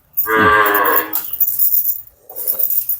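A cow lets out one loud, close moo, followed by quieter rustling and shuffling nearby, then a faint low grunt.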